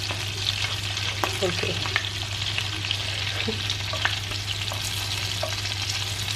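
Meatballs fry in a pan with a steady crackling sizzle, broken by a few spatula scrapes and pops at close range. A low hum runs underneath, and one brief spoken word comes in.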